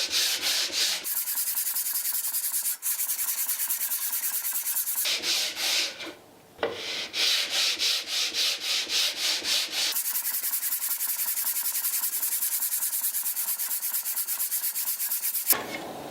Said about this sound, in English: now I'm gonna basically sand it up a little bit